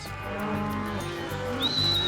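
Cattle gathered on an Alabama ranch low in a drawn-out, close moo, heard with a faint birdlike whistle over open-air background and no speech.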